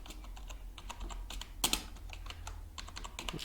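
Steady close typing on a computer keyboard while working in Microsoft Word, quick irregular key clicks with one louder burst of keystrokes midway, quiet and without speech.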